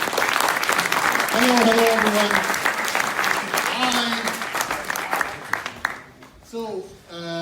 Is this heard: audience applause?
yes